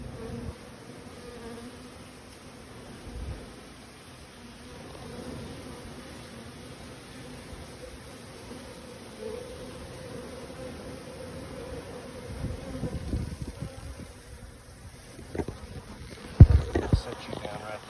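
A large Russian honey bee swarm buzzing close by, a faint, steady droning hum throughout, with handling bumps and rustles near the end.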